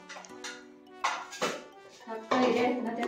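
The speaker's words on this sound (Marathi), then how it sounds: "आपण कुकरचे झाकण काढून" A pressure cooker lid being worked open after cooking raw mangoes, with several sharp metallic clanks and scrapes of the lid and pot close by, interleaved with someone speaking.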